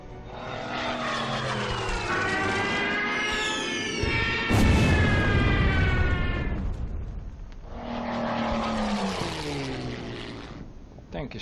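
Stuka dive bomber diving into an attack in the wartime strategy game Order of Battle, with a loud droning propeller engine and rising and falling whines sweeping across the sound, a sharp blast midway, then a second dive pass.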